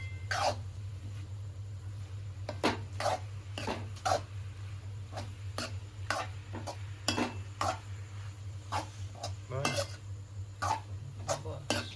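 Soya chunks being stirred into a spiced Gujarati-style gravy: soft, irregular spoon scrapes and taps against the pot, fairly faint over a steady low hum, continuing for several seconds.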